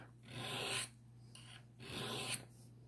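A knife blade is drawn along the rods of a Lansky Turnbox sharpener, making two close, distinct rasping strokes with lighter scrapes between them. A low steady hum runs underneath and no one speaks.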